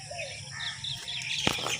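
Birds call in a village in the early morning, with a few light chirps at middle distance and a sharp, brief flutter or clatter partway through.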